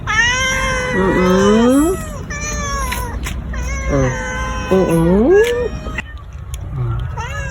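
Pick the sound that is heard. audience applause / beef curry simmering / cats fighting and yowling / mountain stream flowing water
cats fighting and yowling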